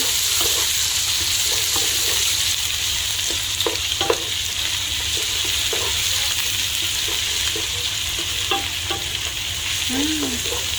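Garlic and ginger stir-fry in a hot pan, giving a steady, close, continuous sizzle with occasional scraping stirs and light clinks, no talking over it.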